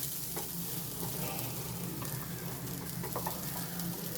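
Ingredients for mint chutney dry-roast in a pan, giving a steady close sizzle and crackle with occasional stirring scrapes, with no talking.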